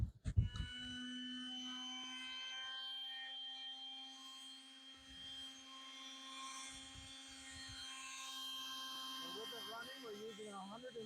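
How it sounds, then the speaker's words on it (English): An orbital sander powered by a Bluetti EB3A power station whirs steadily while sanding kitchen cabinets, a sustained high-pitched buzz with an uneven grinding texture as it works, and someone talks over it. "we're going to power the sander to sand these 3 kitchen cabinets"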